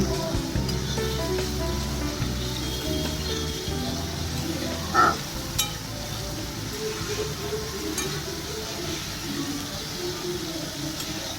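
A ground spice paste fries in a pan with potatoes and pointed gourd while being stirred, producing a constant low sizzle and hiss close by, with a couple of faint utensil knocks.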